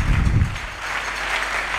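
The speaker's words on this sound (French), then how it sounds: "acclamons très fort" A church congregation claps and cheers loudly during a Sunday service, a dense burst of applause that swells at the start and then continues as a broad, steady wash of clapping.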